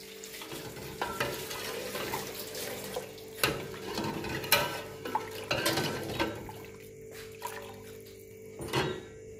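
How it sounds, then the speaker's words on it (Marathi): Curry broth for a Kolhapur-style red and white rassa bubbles and simmers in a pot, a low continuous hiss broken by several soft thuds and clinks of a spoon or pot, with no talk. "आता याला उकळी येऊ देत"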